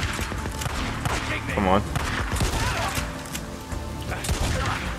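Gunfire in the Days Gone video game, with a shotgun among the weapons, cracking out as a dense, loud fusillade of overlapping shots among game noise while someone speaks briefly.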